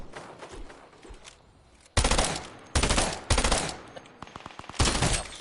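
Gunfire during a video game match: several sharp, loud shots in close succession over a busy game background, with no voices.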